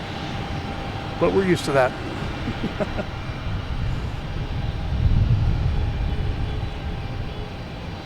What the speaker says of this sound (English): We'll probably start up its engines and make a loud racket.